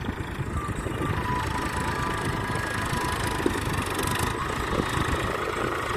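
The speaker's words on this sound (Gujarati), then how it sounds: "અને હાલે આપણું ટ્રેક્ટર" A tractor engine runs steadily on a village outing, a continuous mid-low rumble with a constant drone, fairly close and unbroken for the whole stretch, with no talk.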